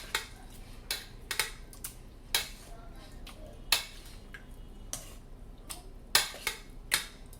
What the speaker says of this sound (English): I'm going to mix it up in the egg